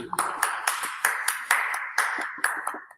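Applause for two student presenters in a classroom: a steady series of sharp, evenly spaced claps, fairly close and loud, with no talking over them.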